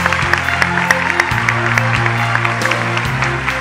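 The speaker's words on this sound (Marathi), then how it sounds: "आपण जोरदार टाळ्या वाजवून त्यांचं स्वागत करूया।" An audience at a college youth court event in Baramati applauds to welcome the presiding judge, a steady patter of many hands clapping, loud and continuous, over a sustained tonal hum.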